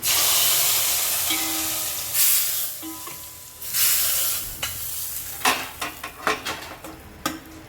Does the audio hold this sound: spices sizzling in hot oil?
yes